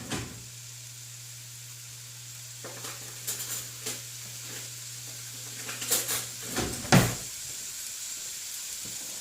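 Onions sweating in a pan for a pantry pasta sauce, a faint steady sizzle under a low hum, with occasional stirring scrapes and clinks of cookware.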